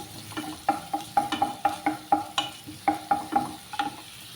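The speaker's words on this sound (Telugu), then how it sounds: "మంచిగా వేగిపోయే వరకు మంచిగా వేయించుకోవాలండి." Green chillies and chicken liver fry in a pan while a spatula stirs, giving a steady run of about fifteen rhythmic scraping strokes over a soft sizzle, close and moderately loud with no talking.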